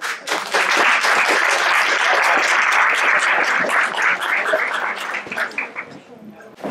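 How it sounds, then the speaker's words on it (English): An audience applauds a speaker at a leadership talk, a dense, steady wash of clapping that holds strong for several seconds before thinning out toward the end. "give a big applause to Claudia van Zuiden"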